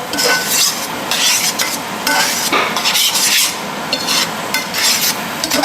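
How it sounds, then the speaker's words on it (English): Cuban ropa vieja, shredded beef in a thick sauce, is stirred in a pot, with loud, close scraping and clattering of a utensil in uneven strokes over a steady background simmer. "so let's stir this up"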